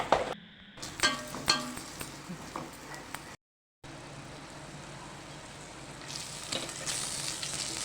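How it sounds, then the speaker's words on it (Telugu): Chicken masala and chilli powder fry in plenty of oil for a rajma curry, a steady close sizzle with scattered clinks of a stirring spoon, a brief cut to silence midway, then the frying resumes and brightens. "ఇలా బాగా నూనె పైకి తేలేలాగా ఫ్రై చేసుకో ఐ మీన్ వేయించుకోవాలి"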